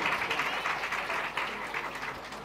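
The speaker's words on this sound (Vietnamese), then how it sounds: "hãy vỗ tay khích lệ những người chồng à" Church congregation applauding the husbands during a Vietnamese sermon, a steady wash of clapping that stays even and fairly distant throughout with no voices on top.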